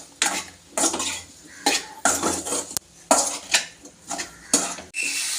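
A metal spoon scrapes and clanks repeatedly against a pan while stirring conch meat with onion and tomato, in rhythmic bursts about every half second over a low background sizzle.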